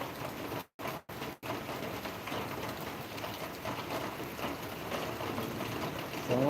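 Steady rain patters and hisses across the whole stretch as a dense, even wash of drops, broken only by a few brief cuts near the start.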